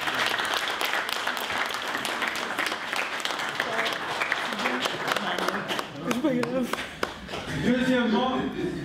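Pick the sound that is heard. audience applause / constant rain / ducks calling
audience applause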